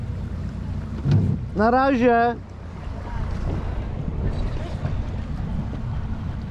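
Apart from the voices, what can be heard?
boat with Suzuki outboard engine running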